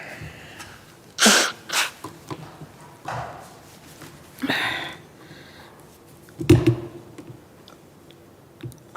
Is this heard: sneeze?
yes